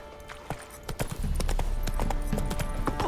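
A horse's hooves clip-clop and then break into a heavy, continuous gallop close by in the video game The Witcher 3, with no speech over the pounding rhythm.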